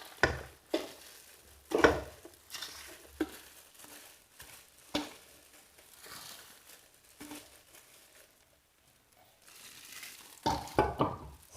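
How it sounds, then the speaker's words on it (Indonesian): Grated coconut is poured into a metal pot in several separate bursts of soft rustling and pattering, close and fairly quiet, with near-silent gaps between pours. "Kita tuangkan semua parutan kelapa ke dalam panci."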